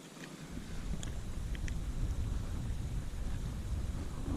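Wind rushes steadily over the microphone while crappie fishing from a boat, a loud continuous low roar with a few faint high chirps on top.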